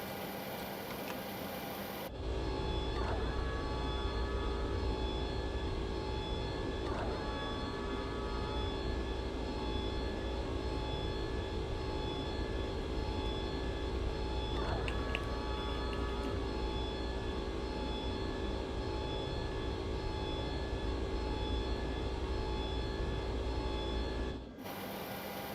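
Engines of a Boeing 727-200F freighter in Microsoft Flight Simulator spool up for takeoff, a loud sustained jet roar that holds steady after a sudden start and then cuts off abruptly near the end.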